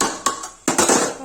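Metal lid set down over a pot of mutton rogan josh on the stove, two close clanks about half a second apart, each followed by a brief ring.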